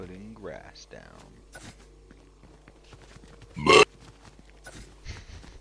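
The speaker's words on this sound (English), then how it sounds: "That's a happy burp." A single loud burp erupts near the middle, short and close, standing out sharply between stretches of casual conversation in a room.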